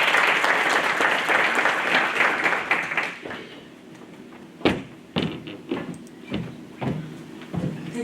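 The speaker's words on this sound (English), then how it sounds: "Can we also please give her a warm round of applause?" An audience gives the mayor a warm welcome of dense applause that fades after about three seconds, followed by a few scattered claps and knocks in a quieter room.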